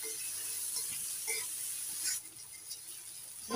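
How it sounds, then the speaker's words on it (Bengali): Garlic, ginger, cashews and chopped tomato fry in a pan, giving a close, steady hiss and sizzle broken by soft stirring scrapes, with no talk. "রসুন, আদা কুচি, কাজু বাদাম, টমেটো কুচি। একটু ভেজে নেব ভালো করে।"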